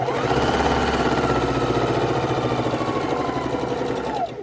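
A sewing machine runs in one steady continuous burst, stitching half square triangle patches into a scrap quilt top, loud and close, with the motor slowing just before the end.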